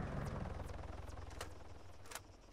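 Helicopter in the ArmA 3 video game during an Altis Life hostage scenario, a steady rotor drone with a pulsing low throb, broken by a few sharp clicks, with no talking.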